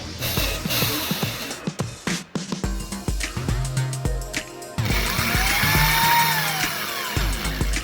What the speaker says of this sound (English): you can start drilling the holes for your screws